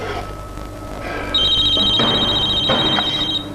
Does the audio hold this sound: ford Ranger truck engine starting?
no